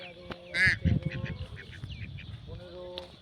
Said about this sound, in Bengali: এই যে 3টে হাঁস, এই 3টে হাঁস আমাদের